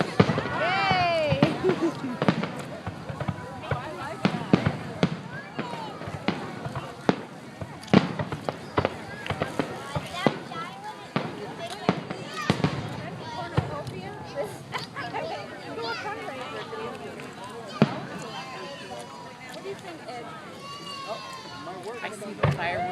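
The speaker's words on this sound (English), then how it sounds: "Fireworks bring out the kid in all of us." Fireworks at a 2012 Perth Amboy display go off in repeated sharp bangs and crackles at varying distance, with people talking, cheering and exclaiming throughout.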